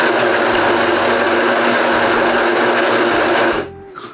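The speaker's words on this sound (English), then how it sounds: "Just place your hazelnuts and blend them." A kitchen blender grinds hazelnuts with a loud, steady motor whir that holds for about three and a half seconds, then spins down and stops. Nobody speaks.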